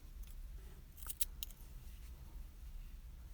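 Scissors snip through crochet yarn while finishing a Santa hat, giving a couple of short, close, crisp cuts over a quiet low room hum, with no talking.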